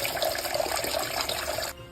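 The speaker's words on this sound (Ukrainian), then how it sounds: "Зразу заливаємо приблизно там 2 літра води" About two litres of water poured into a soup pot, a steady close splashing rush of liquid that cuts off abruptly near the end, with no speech.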